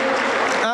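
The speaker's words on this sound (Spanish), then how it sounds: "Fuerte, fuerte los aplausos." A church congregation claps during a worship service, dense, loud applause filling the room, with a voice speaking over it near the end.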